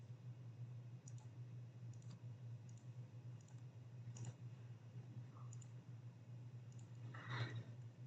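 Soft, sparse computer mouse clicks, about nine or ten irregularly spaced, used while counting bacteria colonies, heard faintly over a steady low electrical hum.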